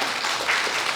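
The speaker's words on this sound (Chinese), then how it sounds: "各位，给他鼓掌。" Brief burst of audience applause in a lecture hall during a talk, a steady wash of many hands clapping for about a second with no speech over it.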